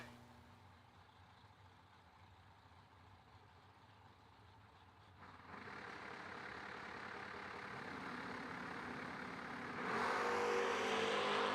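Drag racing cars, among them a wheel-standing Mustang, rumble in the distance and then build into a rising engine roar that grows loudest near the end. A faint announcer's voice carries over the noise.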